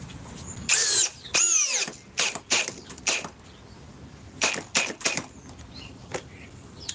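A cordless power drill rated 850 inch-pounds whirs in short bursts, several quick spins and stops with brief gaps between, close and loud.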